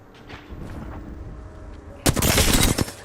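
Video game gunfire bursts in, loud and dense, near the end after a quieter stretch of low rumbling game sound; rapid shots cluster together for about a second.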